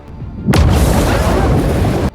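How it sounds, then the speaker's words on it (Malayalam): A drone explodes close beside a submarine, a sudden heavy boom that breaks out of near silence and rolls on as a thick, rumbling roar of the shockwave for over a second and a half. "അത് നോട്ടിൽസിനെ തൊടാതെ തൊട്ടടുത്ത് വന്ന് പൊട്ടി പ്രകമ്പനം ഉണ്ടാക്കുന്നു"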